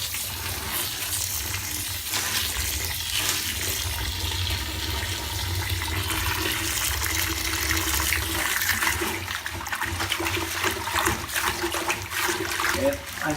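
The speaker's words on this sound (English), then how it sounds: "I'm going to use my shower head" A shower head sprays water steadily onto aquarium substrate, producing a continuous rushing hiss with splashing and trickling. The flow holds even and fairly loud, with no speech over it.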